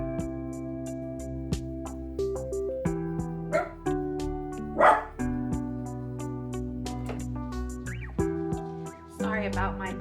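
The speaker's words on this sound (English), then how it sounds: "They're always barking and making noises when I'm recording." Dogs indoors bark and yelp in a few sharp bursts over a steady, humming tonal background.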